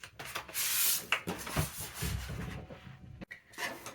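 Dry rubbing and scratchy friction on paper while rubbing out pencil markings, in short uneven bursts with brief pauses, close and fairly quiet.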